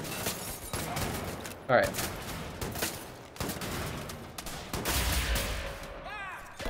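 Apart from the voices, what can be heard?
pistol gunfire against enemies, video game Wolfenstein: The New Order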